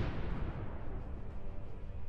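A drone strike sets off a tank's ammunition in a fireball, heard as a dense, rumbling explosion roar that fills the whole stretch with heavy low-end blast noise and no voices.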